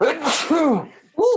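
A single sharp sneeze bursts out during a drawing lesson, with a short voiced exclamation around it and a brief pause before more vocal sound follows.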